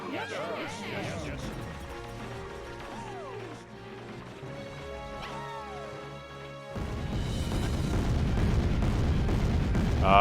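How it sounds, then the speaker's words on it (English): Bombs explode in the video game Little King's Story: harmonic game music plays first, then a loud, dense crashing rumble bursts in and keeps building to the end. "We've got more bombs coming in."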